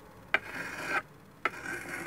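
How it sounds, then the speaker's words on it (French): A sharpening stone rasps along the metal blade of Bahco hedge shears in close, steady one-way strokes, with two sharp scraping onsets and short pauses between passes. "On entend bien ici la pierre qui fait son travail, qui vient faire son travail d'abrasion sur le métal."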